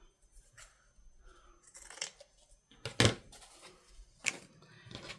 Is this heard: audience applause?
no